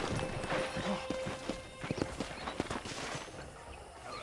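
Horse hooves clip-clop at a walking pace in the video game Red Dead Redemption, with a short whinny near the start, against a soft background hum.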